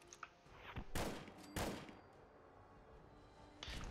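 M1 Garand rifle shots in the game Fallout 4, two sharp heavy bangs close together followed by a third near the end, with faint clicks and low rumble between.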